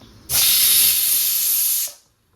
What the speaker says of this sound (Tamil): அடுப்பை ஆஃப் பண்ணி பாருங்க, ஸ்டீம் ஃபுல்லாக ரிலீஸ் ஆயாச்சு